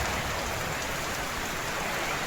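Heavy rain falls steadily in a village field, a dense, loud, even hiss of drops on the ground with no break.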